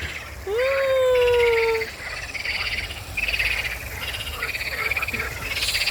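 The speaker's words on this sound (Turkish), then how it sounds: "Kurbağalara bak anne seslerini dinle." A loud nearby frog croak opens, followed by a chorus of frogs calling steadily in the background amid a dense outdoor hum.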